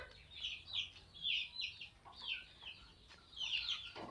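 Hens cluck in repeated short bursts at a steady, busy pace, moderately near with a faint background hiss and no talking.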